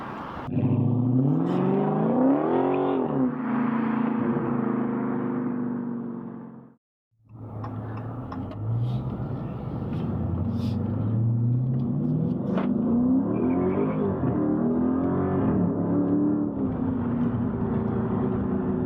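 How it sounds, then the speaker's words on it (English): Loud Dodge Charger Scat Pack engine revving up and down with rising and falling pitch, a brief drop to near silence mid-way, then more sustained revving and rumble. "Rev up your engines!"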